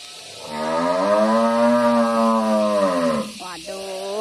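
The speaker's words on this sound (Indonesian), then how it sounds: "kambing sapi belum dikasih rumput pada bunyi semua." Cattle mooing at a farm, waiting to be fed grass: one long, loud, sustained low moo lasting about three seconds, followed by a shorter wavering call, with no other animals clearly heard.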